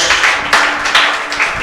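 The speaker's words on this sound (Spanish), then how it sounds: "Dale un aplauso bien fuerte" Church congregation clapping loudly for the Son of God during a service, a close, vigorous burst of applause with rhythmic swells.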